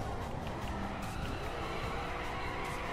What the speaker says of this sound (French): j'ai sorti un de ces dérapages